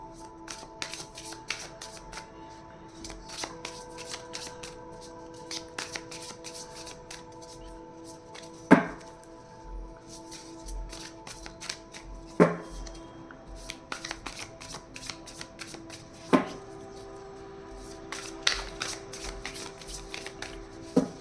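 Tarot cards riffle and shuffle for a career reading, a steady run of soft papery flicks with a few sharper slaps as the deck is squared, close and fairly quiet, no voice.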